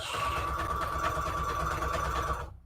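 A sewing machine stitches through a decoupage napkin paper envelope, giving a steady, close, whirring hum with rapid needle ticks for about two and a half seconds before it stops abruptly.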